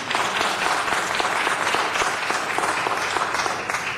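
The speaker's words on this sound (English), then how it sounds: "I'll be glad to get some applause for that statement." Audience at a city budget hearing breaking into dense, steady applause that holds evenly throughout, moderately loud with no talk over it.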